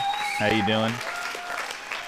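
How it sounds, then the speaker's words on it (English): A loud burst of clapping applause rings out briefly, with a short tonal cheer-like sound riding on top at the start before it fades into background noise. "Those are some loud claps"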